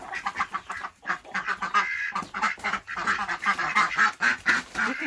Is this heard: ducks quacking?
yes